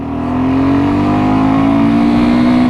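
A BSA Goldstar 650 single-cylinder motorcycle accelerates hard from 0 to 60, its engine note loud and steady as it climbs in pitch under sustained throttle.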